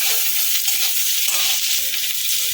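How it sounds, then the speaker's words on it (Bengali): Eggplant pieces frying in hot oil with turmeric produce a dense, continuous hiss and crackle, loud and close, with no voices. "বেগুনটা দিয়ে আবার একটু ভালো করে ভেজে নেবো"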